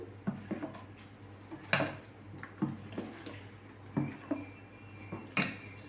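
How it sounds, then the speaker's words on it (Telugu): A spoon stirs ragi dosa batter with salt in a bowl, making close, irregular clinks and taps against the bowl, each sharp and brief, with quiet gaps between them. "ఉప్పు వేసుకున్నాక ఒకసారి బాగా కలుపుకోండి పిండికి అంతా పట్టేటట్టు"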